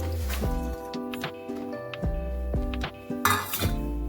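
Flat beans being stirred with salt in a kadai of hot water with onion, green chili and garlic, giving repeated close metallic clinks and scrapes of a utensil against the pan in an uneven rhythm.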